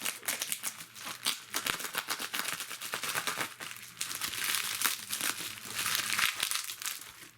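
Bubble wrap and lots of tape are pulled off a delivered package of solar gear, making a dense, continuous close crinkling and crackling that swells and eases without a break.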